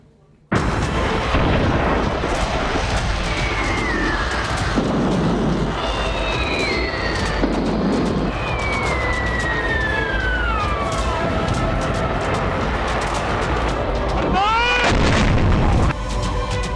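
Loud booming blasts and whooshing streaks sound over a dense, chaotic roar, with a sharp rising whistle near the end.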